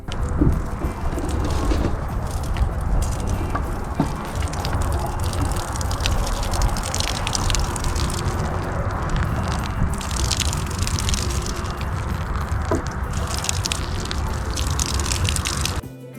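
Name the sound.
watering soil in a cup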